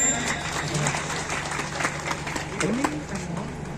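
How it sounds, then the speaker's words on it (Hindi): Crowd applauding at the inauguration of the Tulsi Devi Mangilal hospital alongside a Bhole Baba katha, steady dense clapping filling the whole stretch, with faint voices and background tones beneath. "जोरदार तालियां बजाएं।"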